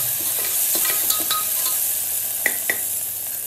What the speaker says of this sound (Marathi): कांदा आणि कढीपत्ता फोडणीत परतो.